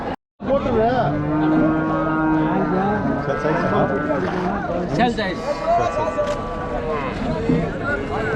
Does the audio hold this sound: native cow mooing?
yes